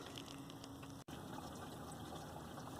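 Coolant drains steadily from a 2013 Dodge Charger V6 after the thermostat is removed, a continuous trickling, gushing flow with one momentary dropout.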